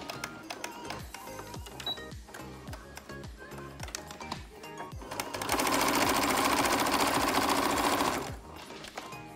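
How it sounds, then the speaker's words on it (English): A sewing machine stitches pajama fabric, its rapid needle ticking running steadily, then surging into a louder, denser whirr for a few seconds before easing back, with a brief backstitch at the start. "Drop your presser foot and start sewing, making sure that you backstitch at the beginning and the end."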